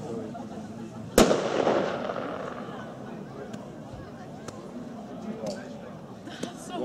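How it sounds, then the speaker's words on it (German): A Flashbang firework battery goes off on New Year's Eve with one sharp loud bang, followed by a crackling, sizzling tail and a few fainter distant pops and shots, under German-speaking voices. "Flashbang Batterie."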